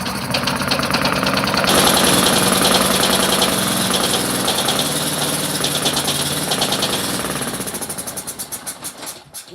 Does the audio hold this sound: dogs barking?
no